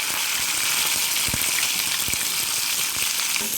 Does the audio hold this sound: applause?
no